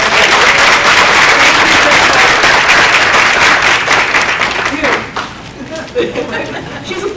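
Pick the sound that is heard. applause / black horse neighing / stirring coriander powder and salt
applause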